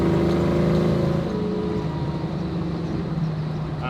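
A steady low LS V8 engine drone with a throaty exhaust rumble fills the cabin of a Jeepster Commando, constant and fairly loud throughout.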